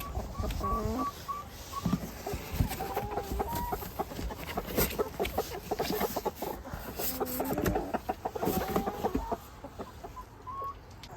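Chickens cluck and call in a muddy, rain-soaked farm run as a new batch of twelve hens joins the flock, the clucks scattered and overlapping at close range over a steady wet background hiss.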